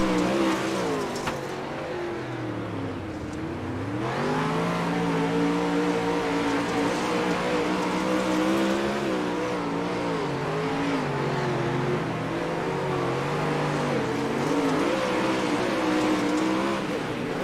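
A 360 winged sprint car lapping Lernerville Speedway, its engine droning loud and continuous, pitch rising and falling through the corners with hard acceleration down the straights, no talk over it.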